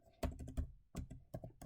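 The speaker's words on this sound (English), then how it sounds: "So we'll just type in pip" Short burst of typing on a computer keyboard, a few quick clustered keystrokes with brief pauses, close and quiet, with no talk.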